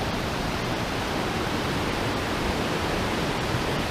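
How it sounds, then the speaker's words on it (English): Water rushing steadily at a steaming hot spring pool facility in Jasper in the Rockies, a dense, constant broadband roar close by with no breaks and no voices. "I know the water's rushing, it might be a little bit hard to hear me"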